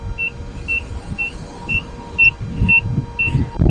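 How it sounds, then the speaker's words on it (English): Short electronic beeps from a Leaperkim Lynx electric unicycle's speed warning, set at 41 mph, repeat at a steady rhythm, about two per second, above a rumbling wind and road noise on a highway. "Got my beep set at 41 miles an hour."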